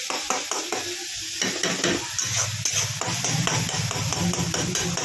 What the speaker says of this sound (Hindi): 10 मिनट ऐसे भुनना है अच्छी तरह।